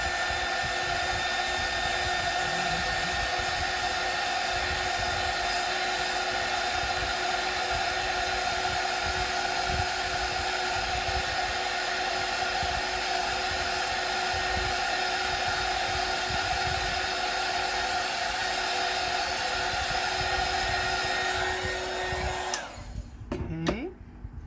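A hair dryer blows steadily on a watercolor holiday card painting. It holds a constant, loud whirring hum with a high whine close by for over twenty seconds, then switches off and winds down at the end.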